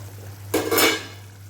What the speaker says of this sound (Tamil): இப்போது சிக்கன் கறியை வந்து ஓப்பன் பண்ணி பார்க்கலாம்